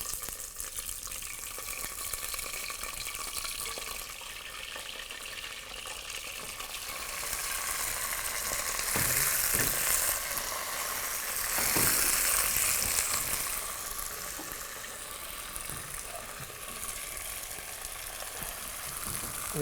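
Chicken fries in oil in a handi with bay leaf and cinnamon, producing a continuous, dense hiss that swells and eases, with a couple of brief clinks midway and no talking.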